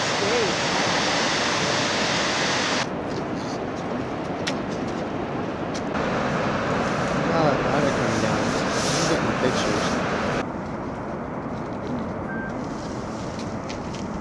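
A cascade at Yellowstone roars as a constant, dense rush of water heard from nearby, with its loudness shifting slightly partway through.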